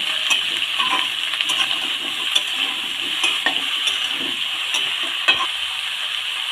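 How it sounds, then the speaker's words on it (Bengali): Mixed vegetables frying in hot oil give a bright, continuous hissing sizzle, close up, punctuated by occasional scraping stirs and clinks of a utensil in the pan, with no voices. "সব রকমের সবজিগুলো তেলের মধ্যে ভালো করে ভেজে নেব।"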